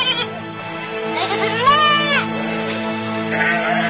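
A goat bleats once, a clear, wavering cry near the middle, over a sustained musical drone that continues throughout.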